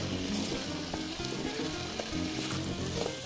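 A potato and egg mixture fries in cooking oil in a frying pan and is stirred: a dense, steady sizzle with soft scraping and stirring textures close by, with no speech.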